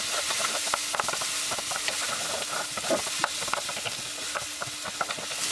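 Crushed garlic and ginger frying in a pan, a close, steady sizzle broken by short scraping stirs, with no voices.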